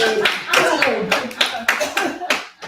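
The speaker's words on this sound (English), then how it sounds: "Give a round of applause." A short burst of applause: a small crowd claps in quick, uneven bursts for a few seconds, fairly close, with some chatter mixed in.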